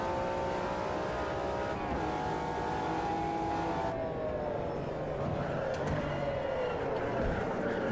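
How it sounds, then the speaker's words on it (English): Several McLaren GT1 V12 race cars roar together in Automobilista 2 at the Red Bull Ring, a dense, loud, continuous engine wail with shifting pitches as the cars accelerate and change gear close by. "So much V12 Symphony around me, I can barely tell which one's mine."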